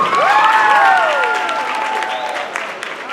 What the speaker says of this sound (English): I want y'all to put your hands together